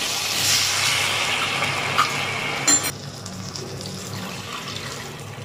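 Water is poured into a pan of simmering katla fish curry, a loud rushing splash and hiss that cuts off after a few seconds into a quieter bubbling sizzle, close up and without voices.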